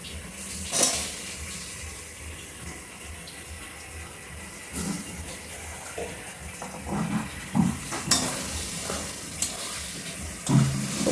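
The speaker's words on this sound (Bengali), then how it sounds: "একটু ভাজা হয়ে নিই পেঁয়াজগুলি, তারপর আমি মশলাটা অ্যাড করব।" Diced onion and garlic cloves frying in a pan, a low soft sizzle with a few scattered clinks and scrapes of utensils.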